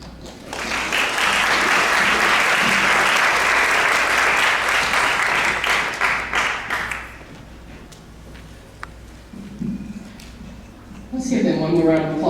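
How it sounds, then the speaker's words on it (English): Loud audience applause fills a scholarship pageant at the Marshall County Blueberry Festival for about seven seconds, then fades into quieter room noise with scattered claps, and a voice speaks near the end. "Let's give them one more round of applause."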